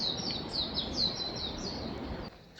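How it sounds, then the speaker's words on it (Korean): Faint high chirps and tweets of birds in a deep forest on a castle mountainside, repeated short calls over a steady background hiss, fairly distant and soft. "지금은 깊은 숲 안에 새들이 지저귀고 있습니다."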